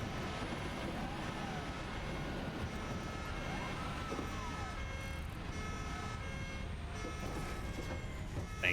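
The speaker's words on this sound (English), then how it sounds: "There's my drop pod coming back. My little siren." Drop pod siren in the video game Satisfactory, a continuous wailing tone over a dense mechanical hum, sustained and fairly loud for the whole stretch.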